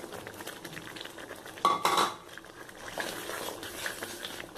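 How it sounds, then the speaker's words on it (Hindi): Fried potatoes tipped into a pan of spiced parval curry, a brief clatter and sizzle of utensil against pan amid soft stirring and scraping, with no talk. "अब मैं इसमें ये भुना हुआ आलू ऐड करूँगी"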